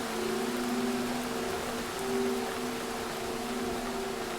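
Heavy rain pours steadily as a sound effect in a Hindi horror story, a continuous dense hiss with faint tonal hum beneath, no voices.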